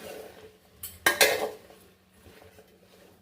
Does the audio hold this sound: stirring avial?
yes